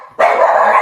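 One loud, close dog bark, sharp onset and sustained for under a second, with no talking over it.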